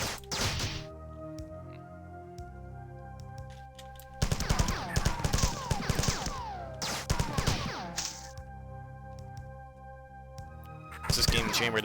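Gunfire from a 12.7mm weapon in the sci-fi shooter Marathon, with loud bursts of rapid shots in several clusters over a steady game soundtrack.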